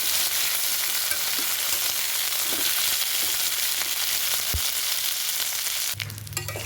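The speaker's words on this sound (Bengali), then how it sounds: "বাদাম দিয়ে ভাজা ভাজা করে নেব একটু।" Peanuts fry in oil with garlic and chili in a continuous, even hiss of sizzling with a few faint stirring knocks. The sound shifts abruptly near the end.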